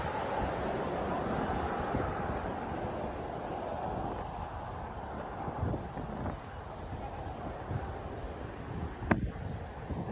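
Steady sea breeze on a nighttime waterfront walk along the Ajman Corniche in the UAE blows as a continuous rushing wind against the microphone, with a broad roar and no distinct voices.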